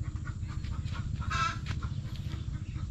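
Laying hens cluck on a farm, a steady chorus of short calls with one louder burst partway through, heard alone with no talk.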